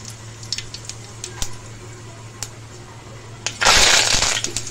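Cumin seeds dropped into two ladles of hot oil in a pot on a gas stove burst into a sudden loud sizzle lasting about a second, after a quiet stretch of faint clicks and low hum.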